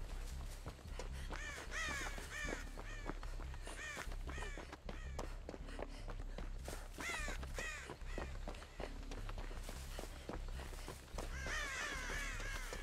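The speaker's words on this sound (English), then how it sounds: "Those birds are a giveaway" Crows caw in the Dead by Daylight video game, repeated harsh calls scattered across a low, steady game ambience with background rumble.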